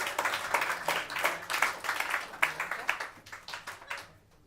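A small audience at a live comedy show at Union Hall gives a round of applause, fairly close, uneven clapping that builds briefly and then thins out and fades within a few seconds.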